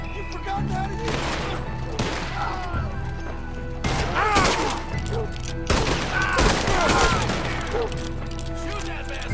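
Shots crack out in repeated bursts during a shootout in the video game Red Dead Redemption 2, mixed with impacts and clatter over a continuous musical and ambient bed, fairly loud and dense.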